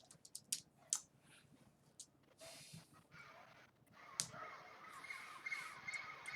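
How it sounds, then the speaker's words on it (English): Crows cawing outdoors, several sharp harsh calls in quick succession at the start and another burst later, moderately distant over a faint background hiss. "Birds."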